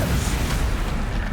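A Bombarda spell explosion in the video game Hogwarts Legacy: a short, loud, close blast with a dense low roar that fills the whole moment, heard alone without talk.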